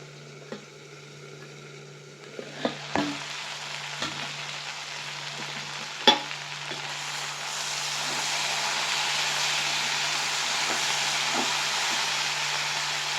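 Ivy gourd (kovakai) sautéing in a pan gives a steady broadband sizzle that swells louder midway and holds, with a few scattered knocks and clinks of a spatula early on, alone without talk.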